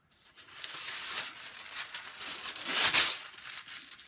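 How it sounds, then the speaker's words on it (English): Parchment paper crinkles and rustles as hands handle it, a dense crackling that swells and fades over a few seconds, up close and without voices, during work on an embroidery hoop wreath craft. "I'm going to grab my parchment paper."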